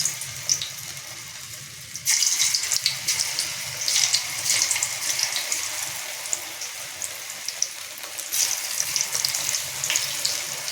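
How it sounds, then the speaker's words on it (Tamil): Ridge gourd pieces dropped one by one into hot oil in a kadai for a veg chicken-style curry, sizzling and crackling steadily at moderate heat, the hiss jumping louder after the first couple of seconds and holding with bright spattering pops. "எண்ணெய் சூடானோடனே நம்ம காய போட்டு பொரிக்க போகிறோம்"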